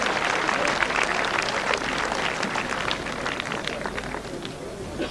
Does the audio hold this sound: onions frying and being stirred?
no